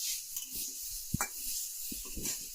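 A ladle stirs chicken in a pan. A few soft scrapes and knocks sit over a steady hiss of cooking, close but fairly quiet, with no talking.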